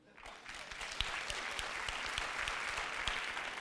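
An audience claps, the applause swelling quickly from a few hands into a full, sustained round with sharp individual claps standing out.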